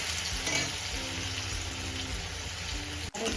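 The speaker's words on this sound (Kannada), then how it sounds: "ಈರುಳ್ಳಿ ಸ್ವಲ್ಪ ಫ್ರೈ ಆಗಲಿ" Onions fry in a pan for bread peas pulao, giving a continuous close hiss and sizzle with light spattering, a faint stir, and a brief drop near the end; no one speaks.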